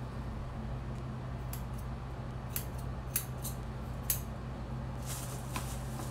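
Scissors snip across short, straightened human hair in a series of crisp, close, irregular cuts over quiet room tone, with a quicker cluster of snips at the end.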